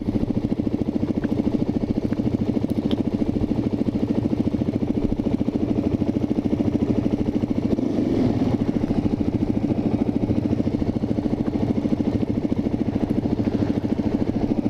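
A Suzuki DRZ400 dirt bike engine runs at a steady, close idle with a low rumble and light mechanical clatter throughout, with no talking.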